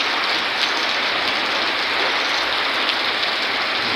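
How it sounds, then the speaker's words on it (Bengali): Heavy rain pours steadily on a flooded street with knee-deep water, a dense, loud, unbroken hiss that holds at the same level throughout, with no voices. "আমাদের এলাকায় বিশাল বৃষ্টি শুরু হয়ে গেছে।"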